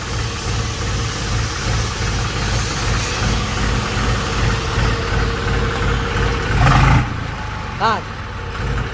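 A Swaraj 735 FE tractor with a hydraulic lift fault runs at a loud, steady, throbbing idle close by, the engine rising briefly near the end, with people talking over it.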